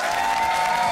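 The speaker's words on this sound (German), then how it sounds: "Einen Applaus für Sven." A crowd in a game-show setting claps steadily for a contestant, a dense, even wash of applause that fills the whole moment without a break.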